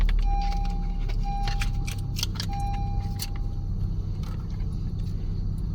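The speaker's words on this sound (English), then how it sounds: "insert your working key into the ignition and start the car" Keys jangle and click as a key goes into the ignition of a 2011-2017 Honda Odyssey, with a sustained chime tone sounding in short repeated stretches over a low steady engine hum.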